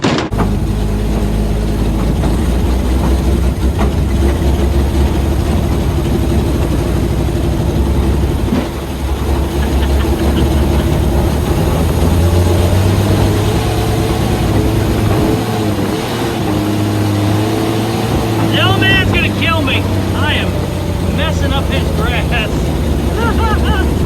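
A customized 1954 Chevy hot rod on a cold-weather drive, with a loud, steady engine drone and low rumble from inside the car throughout, shifting slightly in pitch, and a voice talking at moments over it.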